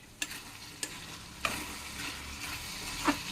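Brinjal pieces fry quietly in a pan with a soft, low sizzle, broken by a few sharp utensil clicks and taps against the pan, close but faint throughout.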